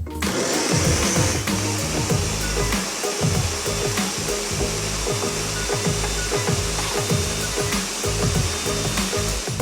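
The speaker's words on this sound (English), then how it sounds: "And now I'm just going to blend." Blender whirring through fresh strawberries, a loud continuous motor roar with a steady rhythmic churning pulse running throughout, close and without voices.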